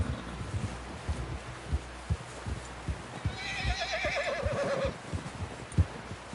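A horse whinnies in a video game, a rising then wavering neigh lasting a couple of seconds amid hoof clops and background game sounds, with no voices over it.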